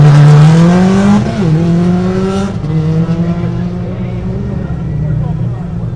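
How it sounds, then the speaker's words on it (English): A Subaru Impreza WRX rally car launches hard off the start line of a super special stage at the 2019 Otago Rally, its engine screaming loud and close, then dipping at a gear change before revving again as it pulls away. "It's a very good takeoff off the line there for Garrett Thomas."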